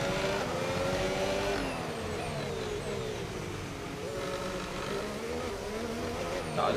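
Formula 1 car engine in the F1 25 racing game, a McLaren screaming at high revs with rising and falling whine as gears shift, loud and continuous throughout with no talking.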